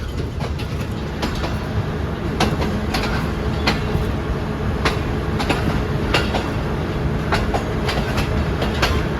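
Allama Iqbal Express passenger train running between Sialkot and Lahore: a loud, continuous rail rumble with regular clickety-clack wheel beats, heard up close from on board.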